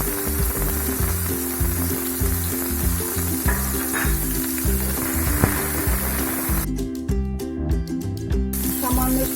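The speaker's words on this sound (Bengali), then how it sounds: "আমাদের উচ্ছেটা ভাজা ভাজা হয়ে এসছে" Sliced bitter gourd frying in oil for Bengali shukto, a continuous loud sizzle under a steady rhythmic background beat, with a brief burst of crackling near the end.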